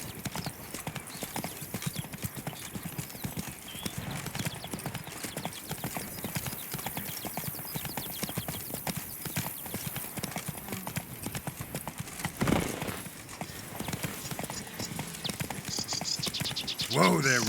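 Horse hooves clip-clop in a steady trotting rhythm in the video game The Witcher 3: Blood and Wine, close and continuous, with a voice talking over them and a whinny near the end.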